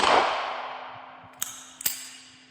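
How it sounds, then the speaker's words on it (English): Two sharp gunshot effects crack out over a fading wash of noise and a steady low tone, the second shot slightly louder with a brief echo. "No, that's the gunshots."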